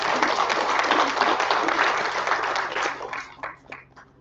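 Audience applause for the cooks who made lunch at a Treaty 6 gathering in 2023, a dense, steady round of clapping that thins and breaks into scattered individual claps near the end.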